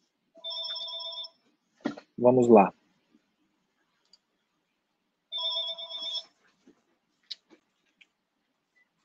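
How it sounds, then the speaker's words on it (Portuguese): A telephone rings in two separate electronic bursts about four seconds apart, each a short steady tone. A brief voice and a few soft clicks come between the rings. "Tocou o telefone aqui, pessoal"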